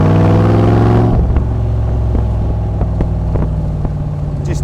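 A Unique Autocraft Python Cobra replica car sits with its engine blipped, a loud rev rising then dropping back to a deep, burbling idle with pulsing exhaust thumps, close and alone.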